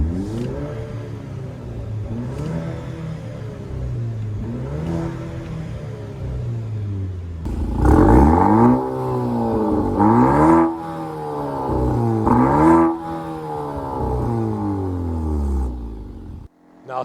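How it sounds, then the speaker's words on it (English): Maserati Grecale PrimaSerie Modena SUV engine, set in sport mode, is blipped several times: a few moderate revs rising and falling, then louder, sharper repeated revs close by, each settling back to a low idle. "I should probably give it a couple of revs for you guys because, why not? I just put it in sport mode."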